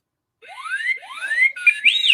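A pet named R2 gives loud, close, rising whistle-like screeches that repeat in sweeping bursts and climb into a shrill, alarm-like tone by the end, with no voices heard.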